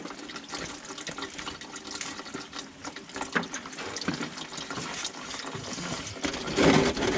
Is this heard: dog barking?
no